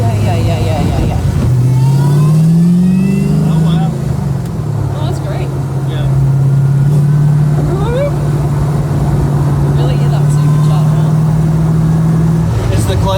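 A Ferrari Testarossa converted to six wheels hums steadily while driving, its engine pitch rising and settling through a gear change, with people talking over it throughout.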